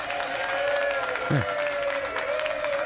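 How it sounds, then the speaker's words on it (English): Studio audience applause at the close of a comedy podcast episode, a steady wash of clapping throughout with a brief voice speaking over it partway through. "that's enough applause"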